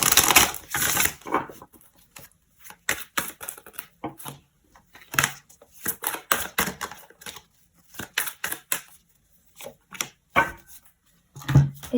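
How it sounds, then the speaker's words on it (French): Tarot cards being drawn and handled from a deck, a series of dry papery slides, flicks and soft taps in irregular clusters separated by near-silent pauses, close and unaccompanied by speech. "Je vais tirer encore une autre carte du tarot."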